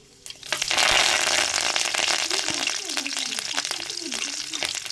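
Curry leaves hit hot oil in a pan with a sudden loud sizzle that settles into steady crackling frying, close and continuous, with faint stirring.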